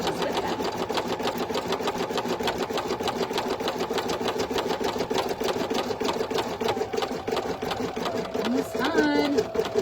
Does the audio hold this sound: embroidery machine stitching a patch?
yes